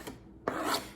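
Vegetables stirred into a creamy mashed mixture, giving two short bursts of wet scraping and rubbing with a brief pause between, close and fairly quiet.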